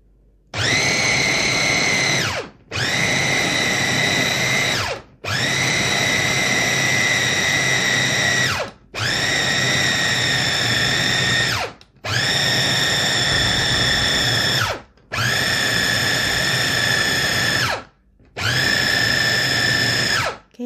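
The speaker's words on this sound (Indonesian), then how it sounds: "kalau menggunakan food chopper ini tidak boleh dipanjar agar tidak panas mesinnya" A Mitochiba CH100 electric food chopper grinds chicken in seven loud, steady motor bursts of about two to three seconds each, separated by brief silent pauses.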